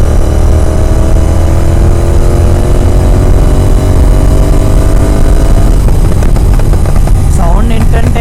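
A tuned Royal Enfield GT 650 motorcycle with an aftermarket exhaust revs loudly and steadily at close range. Its engine note climbs and wavers toward the end under continuous broadband rumble.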